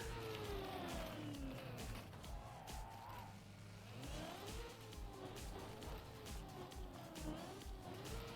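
A car in the Trackmania video game races along with engine pitch rising and falling and tires squealing through turns, fairly quiet overall with no one speaking.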